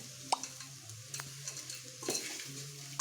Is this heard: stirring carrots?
yes